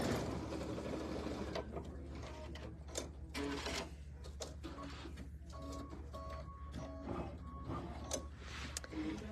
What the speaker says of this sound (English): I'm going to stitch my next stitch, which is actually going to be my trim line for the other side of the triangle